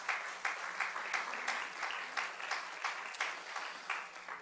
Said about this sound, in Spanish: Otro aplauso para el Señor.